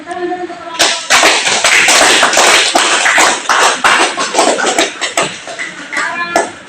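A classroom of students applauds a student group with a burst of quick, close claps that starts abruptly, holds steady, then thins out into scattered claps near the end.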